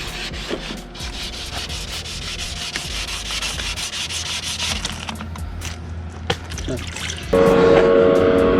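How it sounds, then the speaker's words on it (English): Sanding of Vossen VFF-1 car wheels during a refinishing job, a continuous close abrasive rubbing with scattered sharp ticks and brief talk in the background, ending in a louder, harsher grinding stretch. "we've basically sanded these as much as we are going to"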